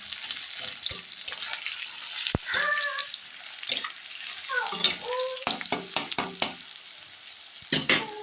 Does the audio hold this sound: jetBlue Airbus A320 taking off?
no